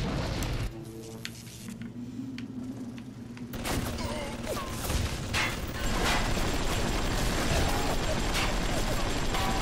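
Turret gunfire in BioShock, scattered and rapid shots that thicken into a dense, noisy barrage in the second half, with a voice talking faintly at times.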